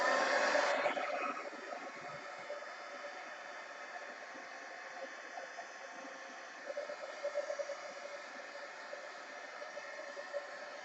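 A heat gun blows steadily while drying a mixed media art journal page, giving a constant airy whir that starts a little louder and then holds an even, moderate level throughout.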